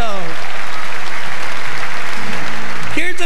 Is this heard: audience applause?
yes